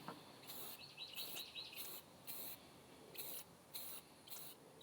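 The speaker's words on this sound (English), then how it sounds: "Just go hold the can back about a foot. Like I said, just a light spray." An aerosol can lightly sprays model train decals in about six short, faint hissing bursts separated by brief pauses in a quiet room.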